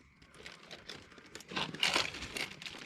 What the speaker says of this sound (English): I'm gonna put it in this plastic bag.